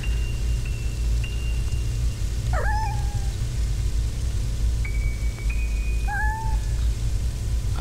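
A cat meows twice, each call a clear rising-then-falling cry a few seconds apart, over a steady low background hum and hiss in an indoor film scene.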